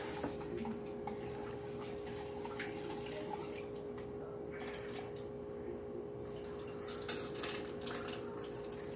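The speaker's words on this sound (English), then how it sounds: "let me just rinse this rice out real quick" Rice rinsed under running tap water in a home kitchen, a soft steady splashing and trickling flow with faint drips and a low hum behind it.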